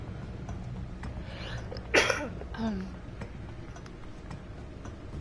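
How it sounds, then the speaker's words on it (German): One sharp human sneeze bursts out mid-clip, short and loud, with a brief vocal tail, over a low steady background with faint ticking. "ich muss kurz niesen"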